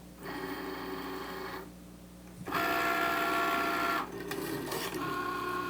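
A Cricut cutting machine runs a cut on fabric for a Santa sack, giving a steady mechanical whirr with tonal motor whine that drops briefly, then returns louder and close for several seconds before easing slightly.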